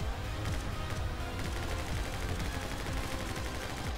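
Rapid gunfire fills a dense, continuous burst of shots from My Friend Pedro, layered over driving game music at a steady, loud level without pause.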